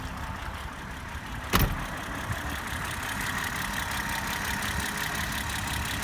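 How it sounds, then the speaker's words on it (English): A 1970 BMW 2800 CS engine idles steadily at close range, a smooth continuous hum with a single sharp click early on and no talking over it. "Running very smoothly."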